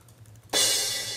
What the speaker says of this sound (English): So I've got this crash cymbal.